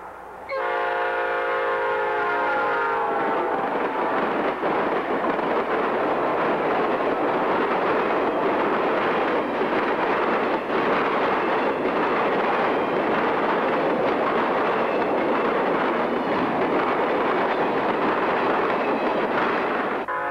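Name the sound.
three Southern GP50 diesel locomotives passing northbound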